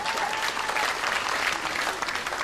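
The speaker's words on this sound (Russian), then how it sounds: "Ваши аплодисменты." Audience applause at a stage comedy show, a dense, steady wash of clapping that fills the whole clip at close, even loudness with no voices over it.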